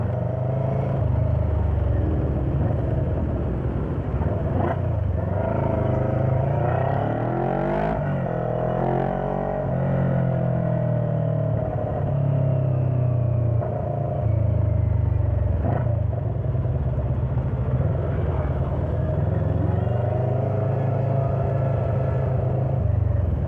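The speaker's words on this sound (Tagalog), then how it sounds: "Traffic is real." Road traffic near a motorcycle dealership in Biñan rolls past as a continuous low rumble of engines with shifting pitch as vehicles accelerate and pass, steady and fairly loud, with no talking.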